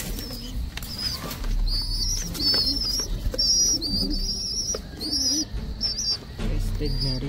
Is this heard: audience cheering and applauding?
no